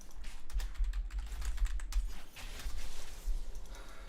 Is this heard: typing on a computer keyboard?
yes